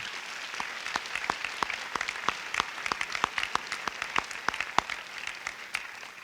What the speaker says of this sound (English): Let's please give a round of applause to both of our sponsors today.